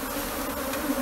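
Swarm of Africanized honey bees being shaken loose, giving a brief, steady buzzing drone of many bees close by.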